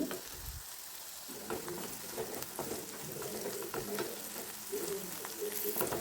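Half-cooked onions fry in an open pan with a dense, continuous crackling sizzle. Stirring adds soft scrapes and clinks throughout, heard up close with no talking.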